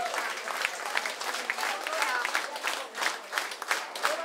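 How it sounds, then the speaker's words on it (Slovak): Audience applause at a Slovak folk music performance, a dense steady patter of many hands clapping for several seconds, with scattered voices in the crowd. "Ešte raz velikánsky potlesk aj pre nich."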